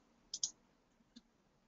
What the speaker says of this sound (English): you go to components and then click on Jgive